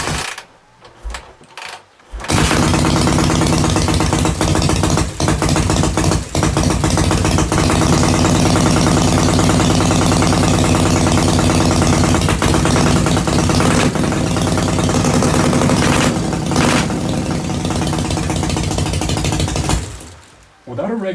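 A Soviet-era USSR chopper motorcycle engine runs without a battery after a few sputtering starts, settling into a loud, steady, rough idle for nearly twenty seconds before cutting off.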